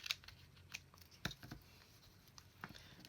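Scissors snipping through a scrap of paper, a few quiet, crisp cuts spaced across a short stretch with soft rustling between them, close by and fairly faint.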